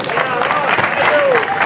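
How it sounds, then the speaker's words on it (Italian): Dense crowd applause at an outdoor Sardinian community festival in Piossasco, loud and steady throughout with cheering voices and whistle-like tones mixed in. "chiedo a tutti i piossaschesi di accogliervi con un grossissimo applauso."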